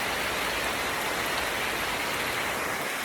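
Heavy rain pours down in the Borneo jungle of Sabah, a dense, loud, unbroken hiss that stays even throughout with no voices.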